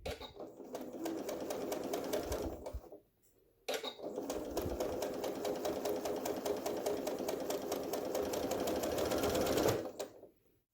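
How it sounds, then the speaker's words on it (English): Janome Skyline S7 sewing machine with the narrow AcuFeed Flex foot stitching a quarter-inch seam: a close, steady, rapid whir in two long runs separated by a short pause. "This is a 1/4 inch seam using the narrow accufeed flex."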